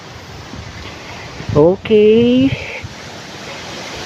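Strong wind buffets the microphone on an outdoor hiking trail, a constant broadband rush that never lets up, while a voice speaks briefly in the middle.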